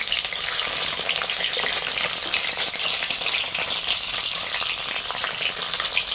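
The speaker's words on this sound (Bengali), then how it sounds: "তেল গরম হয়ে গেছে আমাদের সিদ্ধ করে রাখা ডিমগুলো দিয়ে দিচ্ছি ভালো করে ভেজে নেব" Boiled eggs frying in hot oil give a steady, loud, close sizzle with crackling spatter that runs unbroken throughout, with no talking.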